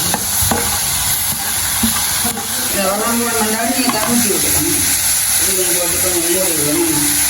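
Tomatoes sautéing in a pan for a Jaffna-style dried fish curry give a steady close sizzle with stirring scrapes, while a voice talks over the cooking.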